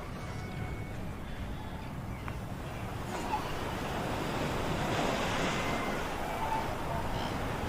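Ocean waves break and surge against treacherous rocks, a continuous loud roar of surf with wind rushing across the microphone, building slightly toward the end.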